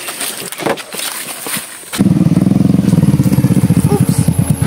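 A motorcycle engine, apparently a scooter during a roadside stop, fires up partway through and runs with a loud, steady throbbing idle close by, after a stretch of traffic and street noise.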